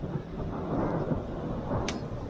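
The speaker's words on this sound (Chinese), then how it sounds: "噼里啪啦往下掉雹子，我哥我都怕把我风挡玻璃打碎了。" Hailstones pound on a vehicle and its windshield during a violent thunderstorm at a campsite at the foot of the Kunlun Mountains, making a dense, continuous, close rattling roar that never lets up.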